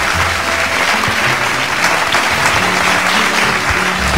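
An audience at a beauty pageant claps loudly and steadily for the contestants, a dense burst of applause lasting a few seconds with no voices standing out.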